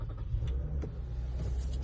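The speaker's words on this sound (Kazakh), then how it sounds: "Машинаны толтырып көрейік. Push старт." A Toyota Sienna XLE minivan engine starting by push button, a low steady rumble close by with a few faint clicks and mechanical whirs, no talk.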